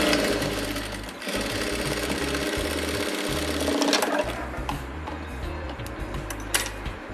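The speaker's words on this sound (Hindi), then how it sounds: "तो चलिए मैं भी कर लेती हूँ यहाँ पर डबल सिलाई।" A sewing machine double-stitches a sleeve seam with a half-inch margin, running close and steady for the whole stretch with only a brief slowdown partway through.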